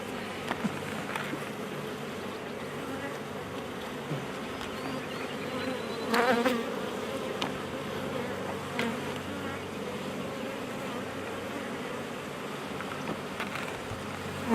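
A swarm of honey bees hums continuously in a dense, close buzz outdoors, steady with slight swells and no voices.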